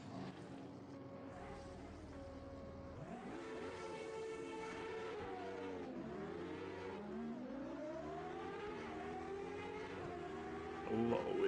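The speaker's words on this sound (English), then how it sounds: "A lot of wheel spin off the line there." Race car engine in the sim racing game Automobilista 2, revving hard and climbing through rising pitch sweeps during a wheelspin launch off the line, loud and continuous with no voices.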